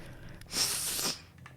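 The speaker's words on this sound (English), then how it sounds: "Uh-oh, I feel like I'm going to sneeze." A single sharp sneeze bursts out close and loud, a brief breathy explosion that fades quickly into quiet room tone.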